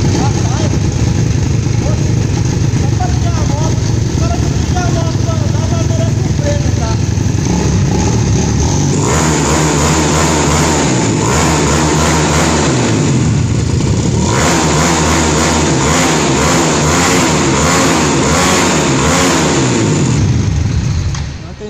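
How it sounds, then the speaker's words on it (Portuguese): A Honda CG motorcycle with a 242cc engine idles close by, then revs hard in repeated loud surges with a raspy, pulsing exhaust, and someone talks over it. "240 cilindrada, motinha filé."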